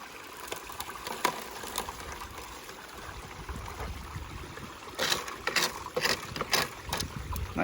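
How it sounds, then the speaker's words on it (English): A Keene Mini Max high banker sluice runs with a 2200 gallon pump recirculating water, a steady outdoor rush and gurgle of flowing water, joined near the end by louder splashing and rattling bursts as material is run through. "2200 gallon pump I'm using as a recirculator"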